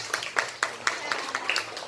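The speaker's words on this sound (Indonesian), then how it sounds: "tepuk tangan dulu buat si Rahmat" A classroom of students clapping for a classmate, a brisk run of roughly eight rhythmic claps in steady tempo, close and moderately loud, with faint murmuring voices underneath.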